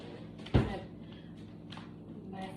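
A drawer shuts with a single sharp thud near the start, followed by faint shuffling and a few soft knocks nearby.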